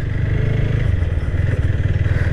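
An Apache RTR 160 4V motorcycle riding along a village road, its engine a steady loud mid-pitched drone with a fast pulsing rhythm and some rattling clatter, close to the rider.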